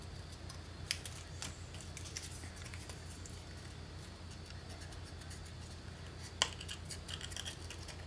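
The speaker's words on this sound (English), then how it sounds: "I find it easier moving the paper versus moving the scissors" Scissors cutting card paper around a pumpkin shape for a handmade scarecrow card, giving faint, sparse snips over a steady low background hum.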